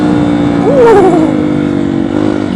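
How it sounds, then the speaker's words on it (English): A dirt bike engine revs hard on a trail ride, climbing to the rev limiter with a loud, close, rising whine that bounces and then settles, filling the entire short stretch. "I've never bounced this thing off a rev limiter."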